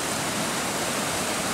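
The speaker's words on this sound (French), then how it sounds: "on est pas loin du ruisseau, le ruisseau est déchaîné" A swollen, raging forest stream runs in the rain near a riverside bivouac camp, producing a steady, dense rushing roar that fills the whole clip with no voices.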